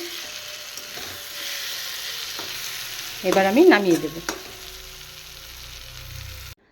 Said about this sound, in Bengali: জলটা পুরো শুকিয়ে একদম ভাজা ভাজা করে নিয়েছি